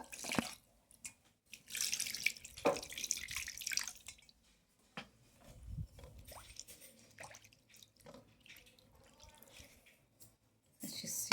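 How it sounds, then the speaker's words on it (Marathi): Clean water poured and splashing over a silver Ganesh idol being rinsed, with irregular close drips and trickles separated by quiet gaps. "हे जे आता मी गणपती धुतलेला आहे तो परत एकदा मी स्वच्छ पाण्याने धुवून घेणार आहे"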